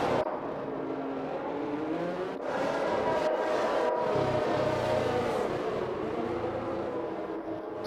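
Race cars from F1 2021 rolling around the Hungary circuit on a warm-up lap, a steady engine drone with whirring tones and gentle rises in revs, close and continuous.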